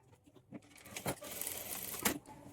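A sewing machine stitches darts on a plain blouse in short, quiet bursts of rapid needle clatter, separated by brief pauses and small handling knocks.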